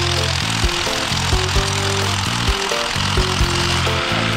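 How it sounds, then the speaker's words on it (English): A long drill bit bores into a rock face with a loud, continuous pneumatic hammering roar, the tone of the motor stepping up and down in short bursts throughout. "So we've drilled right through here at an angle, and we're coming into the main part of the rock face up there."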